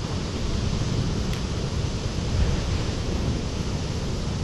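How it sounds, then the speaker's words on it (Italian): Rough storm sea crashing on the Tyrrhenian coast at Acquappesa, Cosenza, with waves up to six metres; a loud, continuous roaring wash of surf and wind with no break, no voices. "onde alte fino a 6 metri"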